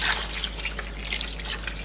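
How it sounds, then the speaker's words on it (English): Water poured into a pot of cassava leaf soup, a steady close trickle with bright splashing, heard alone for about two seconds. "So I'm gonna add some water so we can have enough juice for the cassava leaf itself."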